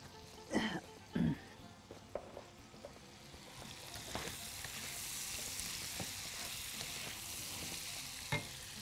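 Salmon sizzles steadily in a hot pan, with a few sharp clanks from the utensil turning it early on and a soft throat clear partway through.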